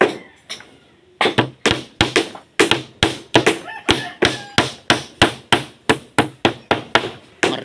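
Repeated sharp hammer blows ring out at a construction site in a steady rhythm, loud and close, each strike decaying quickly before the next.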